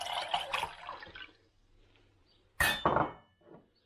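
Water is poured into a cooking pan that already holds vinegar, with an early stretch of pouring and clinking, a quiet gap, then a second louder splash with clinks, close by.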